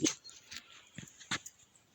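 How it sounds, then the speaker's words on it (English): A dog makes a few short, faint yelps and whimpering barks outdoors near a statue, spaced irregularly and heard at a distance with no talk over them. "What are you barking at?"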